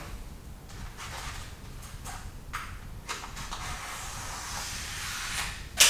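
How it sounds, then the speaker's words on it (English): Knife slicing through a thin sheet of smoke tint film, a series of short scraping swipes spaced a second or so apart, close and fairly quiet, ending in a louder sharp scrape. "we'll go put our knife through it and just run the knife all the way down"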